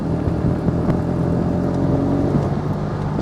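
A broken kit car's engine drives steadily in gear, a loud continuous drone with a slight whir close by and no one talking.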